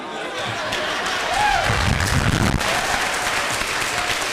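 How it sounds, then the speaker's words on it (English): An audience at a board of education budget meeting claps together, the applause swelling in the middle and continuing steadily, with some voices mixed in. "So the rest of you clap."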